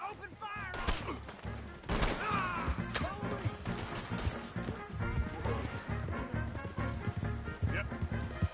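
Bursts of gunfire in Red Dead Redemption 2 ring out amid a chaotic fight, with sharp shots, crashes and horse hooves, while voices shout over the noise.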